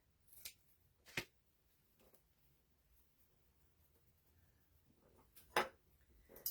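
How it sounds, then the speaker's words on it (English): Scissors cut through paper soaked with coffee and Mod Podge to shape a craft tag, a few quiet, sparse snips spread across several seconds in an otherwise still room. "I'm going to cut this into a tag shape"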